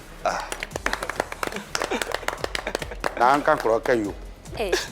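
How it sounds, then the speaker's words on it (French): An audience at a television show gives a scattered burst of hand claps mixed with people talking over it, close and uneven rather than a full sustained ovation. "Je vous demande de l'applaudir."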